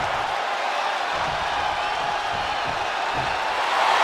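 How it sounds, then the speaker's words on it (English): Arena crowd in the WWE 2K25 wrestling video game roars and cheers in a steady, dense wash of noise that holds at the same loud level throughout. "This capacity crowd is sending him love, and he's sending it right back"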